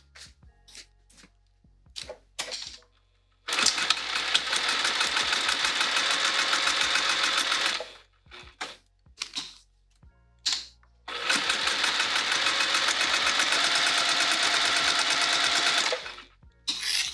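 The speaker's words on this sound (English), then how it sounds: "And we're going to sew it down." A sewing machine stitching fabric for a snap wallet runs in two long, steady bursts of rapid whirring clatter, close and loud, separated by short pauses filled with handling clicks and rustles.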